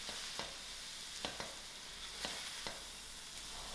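Mutton curry seasoned with salt sizzles steadily in a pan while being stirred, with soft periodic scrapes of the spoon against the pan, close and fairly quiet, with no talking.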